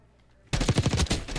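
Gunfire from a stock weapon in a Call of Duty beta: a sudden burst of rapid automatic shots after a quiet moment, loud and close, with a rhythmic stutter and a rumbling tail.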